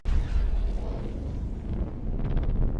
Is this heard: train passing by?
no